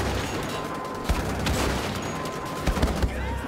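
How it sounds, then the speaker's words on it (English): Several sharp, moderately distant gunshots crack in quick irregular bursts over a low ambient drone in the first-person shooter Wolfenstein: The Old Blood, with a pair of shots near the start and a tighter cluster toward the end. "Who the fuck's shooting me?"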